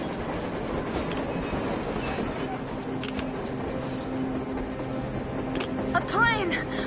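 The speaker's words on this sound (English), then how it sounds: "A train! A damn train on the surface!" A train rolls along the surface in the video game Metro Exodus, a steady broadband rumble and clatter with a brief metallic screech near the end.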